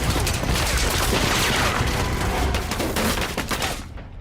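Rapid turret gunfire from a Fallout TV series scene, a dense, loud fusillade of continuous shots with booming impacts that fades out at the end, no talking over it.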